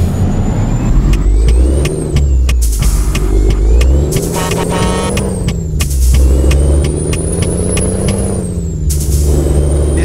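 A heavy truck engine drones steadily with rising revs, broken by sharp hisses of air brakes and clicking, loud and close, with no voices, in the Euro Truck Simulator 2 video game.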